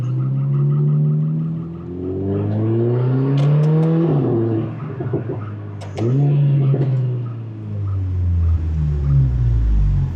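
A Mercedes GLA45 AMG engine drones loudly and steadily from inside the cabin, its pitch climbing through the gears with two clear shift drops, then easing off near the end.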